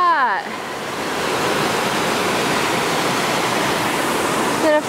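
Glacier meltwater rushes and roars down a mountainside in Alaska, a loud, steady broadband wash that holds for several seconds, with a brief voice at the start and the end.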